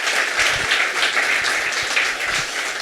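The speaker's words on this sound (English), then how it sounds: "Can we please give them a round of applause?" An audience claps for the speakers at the close of an online retail business talk, a steady wash of applause from a room full of people, moderately loud and continuous.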